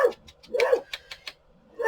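A dog barks several times in short, sharp bursts with yips in between, close and loud, during an evening walk.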